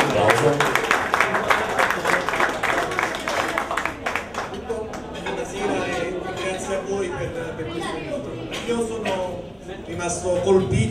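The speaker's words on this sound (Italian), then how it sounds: "Facciamogli un applauso." An audience applauds at an event at Tor de' Cenci, a loud burst of clapping that fades into crowd chatter and voices.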